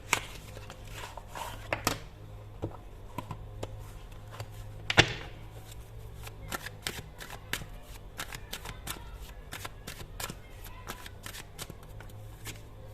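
A deck of tarot cards is shuffled and drawn by hand, giving a close run of crisp riffling and flicking card sounds with sharp snaps spread across the stretch, with no talking.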